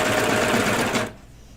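A serger sewing machine stitches a seam on kids' pajama bottoms, a loud, fast, steady mechanical whir up close that stops abruptly about two-thirds of the way through, leaving a quiet room.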